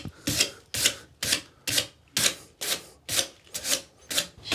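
Rhythmic rasping strokes of sandpaper or a file roughing up PVC drain pipe to strip old glue, about nine even back-and-forth passes at a steady pace, close and moderately loud with no talking.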